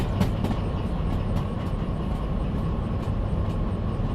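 A train in the DV Sim railway game rolling along with regular clickety-clack beats over a steady rumble, moderately loud, without speech.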